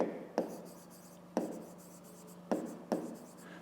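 A pen or pencil writing divisors by hand on paper for a fifth-grade maths exercise, with quiet continuous scratching strokes broken by four sharp taps, close and soft with no voices.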